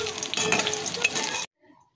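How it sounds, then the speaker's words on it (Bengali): Pointed gourd (potol) fries in hot oil with a bright, steady sizzle and faint stirring, loud and close for about a second and a half before cutting off abruptly to near silence. "পটল ভাজা হয়ে গেছে বুঝেছো, একটুখানি বাকি"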